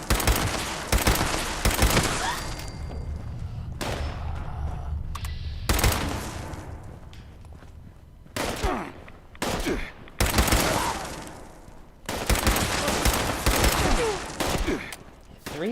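Repeated bursts of explosive pipe rifle fire from a Berserker legendary weapon in Fallout 76, loud sharp volleys separated by short gaps and quieter stretches, heard alone without talk.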